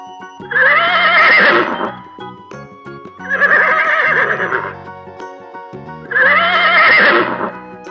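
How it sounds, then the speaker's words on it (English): A horse neighs three times in loud, separate whinnies, each about a second and a half long, with short silent pauses in between. "Horse."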